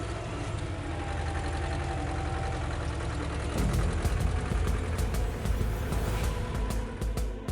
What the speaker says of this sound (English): Engines scream against resistance, ropes stretch until they threaten to snap